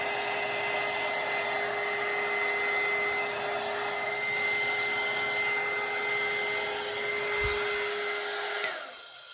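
A heat gun blows steadily on an epoxy-coated tumbler, a constant loud whooshing hum with a tonal whine that cuts off near the end.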